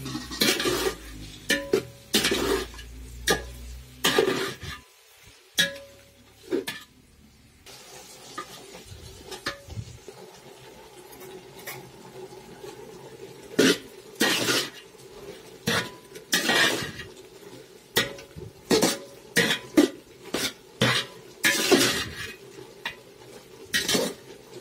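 Thick plum pickle stirred in a pan, a spoon repeatedly scraping and clinking against the metal in a steady, uneven rhythm, close and fairly loud, with a faint sizzle between strokes.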